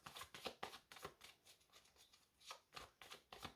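Tarot cards riffled and shuffled in quick, crisp bursts, a papery flutter repeating several times with short pauses between, close and fairly quiet.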